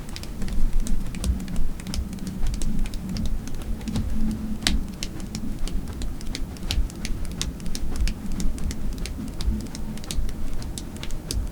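Hands tapping drum cadences on a lap: rapid, irregular soft pats and taps in quick rhythmic patterns, close and moderately loud throughout, with no voices.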